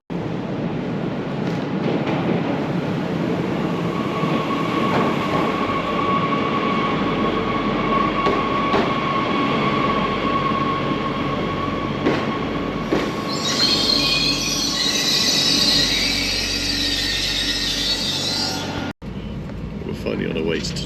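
A train bound for Toulouse rolls along the rails with a loud, continuous rumble, and a high wheel squeal rises near the end before a sudden brief drop-out. A voice can be heard faintly under the noise.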